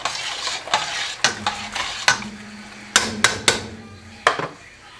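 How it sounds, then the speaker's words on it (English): A spoon gives a quick stir to a pot of sauce after salt is added for Italian spaghetti and meatballs, making a series of sharp clinks and scrapes against the pot over a soft simmering sizzle. "Give that a quick stir"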